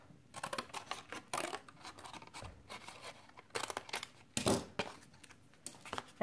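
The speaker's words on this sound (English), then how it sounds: "Just going to cut this off." Scissors snipping off the excess of a craft pocket on a notepad cover, a series of short, crisp cuts and scratchy paper-like rustles at close range, fairly quiet and without speech.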